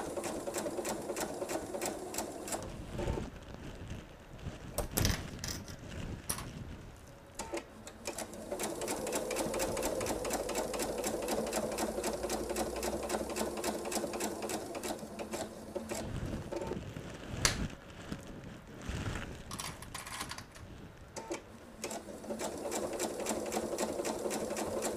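A sewing machine stitches a patriotic disappearing nine patch table runner, running in long continuous stretches broken by a few short stops, close and steady.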